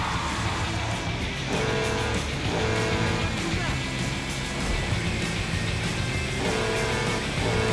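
Electric battery car driving in Grand Theft Auto V, its steady engine and road noise running continuously throughout with a few tire squeals, while people talk over it.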